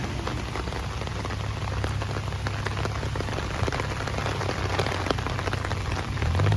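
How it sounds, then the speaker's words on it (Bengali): Heavy evening rain in New York, a dense steady hiss of drops pattering on surfaces, continuous and fairly loud throughout with no voices. "বেশ ভালো জোরে বৃষ্টি"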